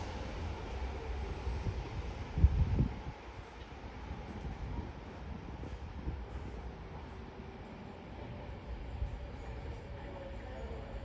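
A train rumbles low and steady through Lancaster Station on the West Coast Main Line, with a brief heavier thump early on and a constant wash of noise throughout.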